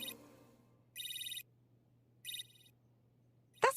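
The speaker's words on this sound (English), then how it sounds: "That sounds like Barbie's phone." A Barbie toy phone plays an electronic ringtone in two short bursts against a faint steady hum, and a short louder noise follows at the end.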